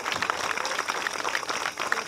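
Audience gives the choir a round of applause at an outdoor art installation dedication, a steady crowd of clapping hands with sharp individual claps standing out, even and sustained.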